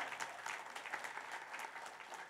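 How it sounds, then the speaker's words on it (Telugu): Steady applause fills a hall from an audience at a spiritual meditation gathering honouring guests, dense clapping continuing evenly throughout without speech. "గట్టిగా చప్పట్లతో వారికి మన అభినందనలు, కృతజ్ఞతలు తెలపాలి గట్టిగా."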